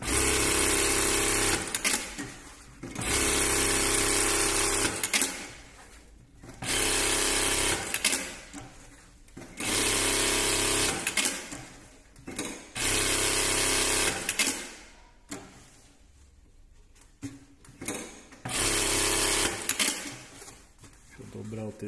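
A Sansei SA-G9050-NT direct-drive industrial straight-stitch sewing machine runs in repeated bursts of rapid stitching, stopping and starting between runs, with a person talking in the pauses.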